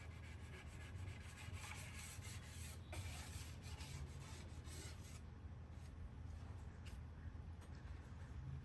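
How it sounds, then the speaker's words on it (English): Putty knife scraping old wax off a surfboard, a steady continuous rasping and rubbing close by, with a few sharper strokes, and no talking. "And I can come and re-scrape some of the stuff."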